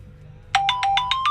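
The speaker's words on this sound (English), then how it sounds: "You just got a text message." A phone text message tone rings out during a food quiz: a rapid series of six bright, evenly spaced electronic beeps that rise slightly in pitch, loud and close over a low background hum, with no talking.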